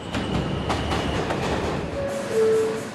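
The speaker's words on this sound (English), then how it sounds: "Midnight on the New York subway." A New York subway train runs at midnight, its steady rumble and wheel clatter filling the car, with a few sharp rattles and a brief high wheel squeal near the end; no one speaks.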